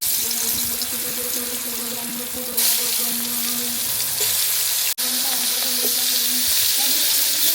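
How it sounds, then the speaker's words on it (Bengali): Potatoes coated in turmeric and salt fry in hot oil in a wok, giving a steady, close, loud sizzle with a brief dip partway through and no voices. "এগুলোকে ভাজবো বলে আমরা প্রথমে হলুদ লবণ মাখিয়ে নিয়েছি এবং কড়াইতে তেল দিয়ে দিয়েছি"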